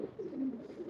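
Teddy breeder pigeon giving one soft, low throaty coo, brief and fairly faint, with no voices.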